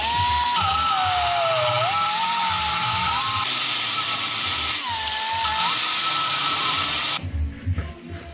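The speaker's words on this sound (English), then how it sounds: "I'm just gonna use a die grinder with an aluminum bit and just round that" A die grinder fitted with an aluminum bit rounds off a corner on a 5.9 Cummins cylinder head, a loud continuous high whine with shifting pitch for about seven seconds before cutting off abruptly.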